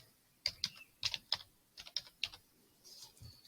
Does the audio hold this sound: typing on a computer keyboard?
yes